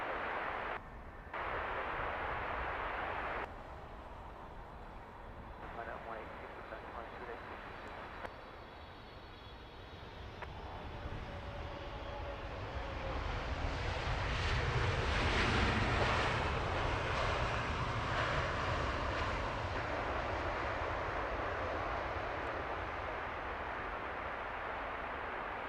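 A British Airways airliner at London Heathrow Airport roars past, its jet engine noise swelling to a loud broad rumble mid-way and then easing off while still holding on.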